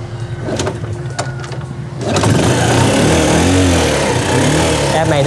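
A Honda Super Cub 90cc motorcycle is kick-started: a few kicks and clanks, then the small engine catches and settles into a steady, loud, buzzing idle close by.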